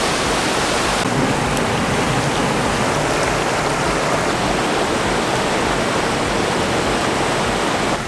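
Waterfall at Texas Falls, Vermont, a steady, loud, dense rush of falling water filling the whole clip without a break, with no voices.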